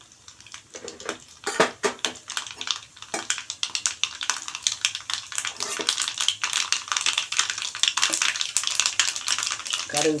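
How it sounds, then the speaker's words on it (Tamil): Mustard seeds crackle and splutter in hot oil during tempering for a tapioca dosa, a dense run of sharp little pops and clicks that gets busier as it goes, close up, alongside some clinking of the pan. "கடுகு பொரிஞ்சிருச்சு."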